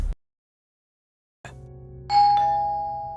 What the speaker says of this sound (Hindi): लगातार बजती घंटी की आवाज ने अभिनव को जगा दिया